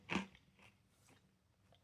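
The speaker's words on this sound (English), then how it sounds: "Pizza crunch here is good." A single crunchy bite into a slice of Gustavo Gusto pizza topped with salami, ham, cheese and tomato sauce, sharp and close, followed by quieter chewing crunches.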